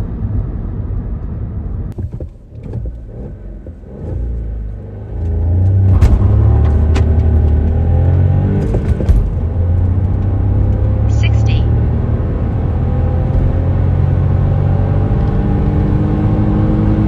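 An Audi A1 Sportback 1.0 TFSI 95 hp S-Line engine pulls hard under full acceleration, dipping briefly at a gear change to around 6000 RPM before the loud interior drone climbs again.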